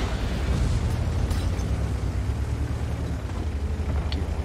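A tank cannon firing in World of Tanks, a heavy low boom with a rumbling tail that fills the whole stretch, loud and steady with no talking.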